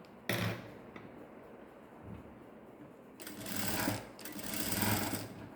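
A sewing machine stitches a blouse in short stop-start runs, a quick tick at first and then two longer steady whirring bursts, close and clear with no voices.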